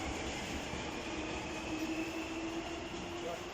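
A train rolls steadily through Wembley Park station near platforms 1 and 2, a continuous broad rumble with faint wheel squeal, heard up close from start to finish.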